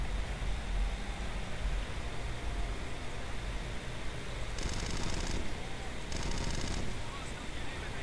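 Automatic gunfire in the Red Crucible online battle game: two short, loud bursts of rapid shots over constant noisy background din.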